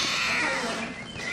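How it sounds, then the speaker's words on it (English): A mother cat with kittens lets out a harsh, drawn-out, hissing yowl at close range, loud and noisy, filling the short moment. "And there's the mama cat."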